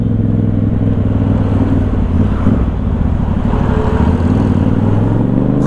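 A motorcycle engine runs steadily and loud throughout, close by, used by a street vendor selling kutsinta and puto, with wind buffeting the microphone the whole time.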